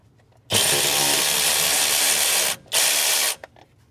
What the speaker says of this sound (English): Maybe we can use my electric wrench here to get the rest of this bracketry off.